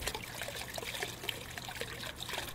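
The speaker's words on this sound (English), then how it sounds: "Is the faucet busted?" Water gushing from a busted faucet in the video game The Crooked Man, a steady splashing trickle that runs loud and unbroken throughout.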